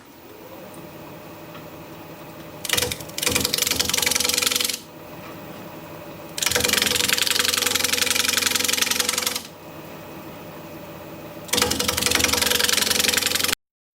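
Wood lathe spinning a cork oak bowl while the corners are rounded over, a loud broadband cutting roar coming in bursts of a few seconds each over a steady motor hum, with quieter gaps between cuts.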